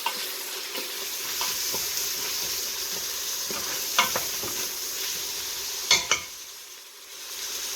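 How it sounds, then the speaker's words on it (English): Vegetables and mushrooms sauté in an Instant Pot, a steady close sizzle broken by scraping stirs and a few sharp utensil knocks against the pot. "So I want these to saute a little bit."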